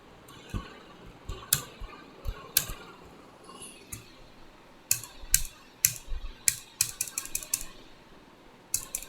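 Keys clatter on a computer keyboard, with scattered single presses early and then quicker clusters of crisp taps, including Ctrl+Enter strokes while working in a document, heard close and quiet with no voices.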